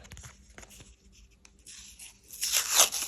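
Paper surprise packet being torn open close up, a quiet crinkle at first, then a louder burst of ripping paper near the end.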